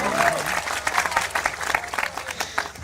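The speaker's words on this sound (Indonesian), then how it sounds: "Tepuk tangannya mana dong?" Audience applause at a Cak Nun and Kiai Kanjeng gathering in Bojonegoro, a lively crowd clapping in uneven bursts that rise and fall, with some voices mixed in.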